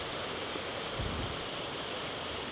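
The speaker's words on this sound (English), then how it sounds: "Nice waterfall coming in down there." Waterfall pouring into a river near a gold mine, a steady broadband rush of falling water heard from a short distance, continuous and even throughout.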